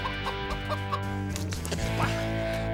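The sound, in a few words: wild chickens clucking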